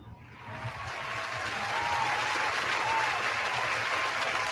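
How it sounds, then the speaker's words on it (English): Audience applause at a 49ers football talk show swells in after a quiet start and holds as a steady, dense wash of clapping for several seconds, with no voices over it. "Round of applause"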